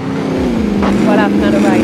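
Car driven in Warzone Plunder, the engine droning steadily and close with a slight rise in pitch as it accelerates, with a voice talking over it.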